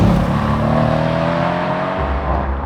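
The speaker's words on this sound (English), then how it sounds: "it's still packing a 4 litre twin-turbo V8" A Mercedes-AMG C63's 4-litre twin-turbo V8 drones loud and steady, its deep harmonic rumble holding throughout, without speech.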